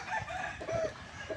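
A breeding rooster crows close by in a short burst, rough and raspy over a noisy background, with no talking.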